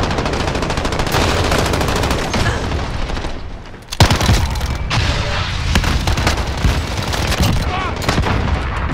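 Rapid bursts of Uzi submachine gun fire in a multiplayer shooter video game, loud and almost continuous for the whole clip. There is a brief lull near the middle, followed by a sharp boom.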